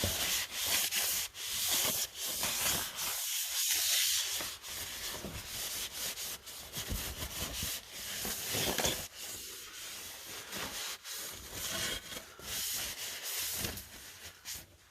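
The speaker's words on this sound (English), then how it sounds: "I'm gonna wipe all the pipes down with acetone" A rag soaked in acetone is wiped along the Yoshimura exhaust pipes of a Maverick X3, making a loud, close, continuous rubbing and scrubbing hiss with short strokes and a few brief gaps.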